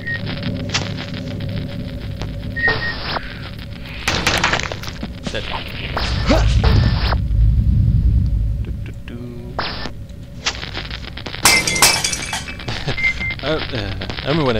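Glass shatters in the Aliens versus Predator Gold Edition game as a sharp, bright burst near the end. It comes amid scattered thuds, thumps and a roaring swell, with a voice present at times.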